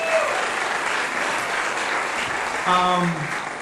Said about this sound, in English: the kids on the stage who are behaving very well deserve an amazing round of applause